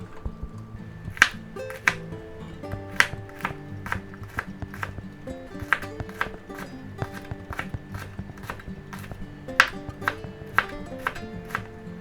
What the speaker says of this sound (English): now let's take our green onions and we'll cut off the bottoms here